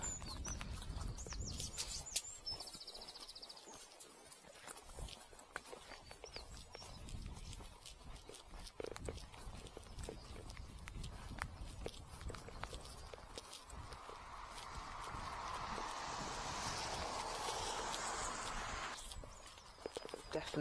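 A horse named Farouk walks across boggy moorland, his hooves landing in soft, irregular clops and squelches at close range, with a faint breathy wash of wind in the background.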